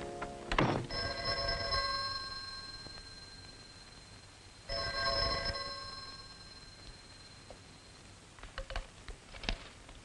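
A telephone ringing indoors, two separate bell-like rings spaced a few seconds apart, fairly faint, followed by light handling clicks.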